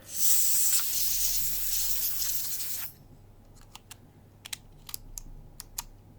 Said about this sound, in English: We're going to use the compressed air, try and blast anything out of that may be in there